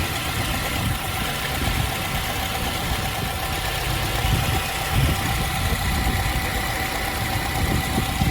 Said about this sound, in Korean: 핸벨트 도는 거 이상 없이 잡소리 없이 깔끔하게 잘 도는 것도 확인하실 수 있고요